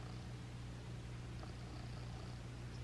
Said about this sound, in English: I need you guys to see this cat right now.